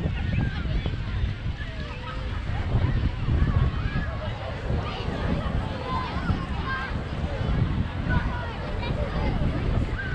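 Steady wind buffets the microphone on Burleigh Heads beach near Palm Beach, a continuous low roaring rush with surf-like wash that holds loud and even throughout, with faint voices mixed in.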